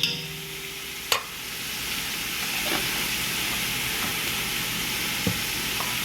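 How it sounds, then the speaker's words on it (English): Minced garlic, about a tablespoon, sizzles in a hot pan as a steady broad hiss that runs throughout, with a few brief clicks of a utensil against the pan. "And I'm going ahead and add the minced garlic."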